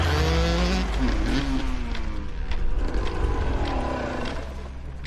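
A race vehicle at a track engine event drones and shifts pitch as its engine bogs off the bottom, with sweeping tonal changes, mechanical rattle and a steady loud roar throughout.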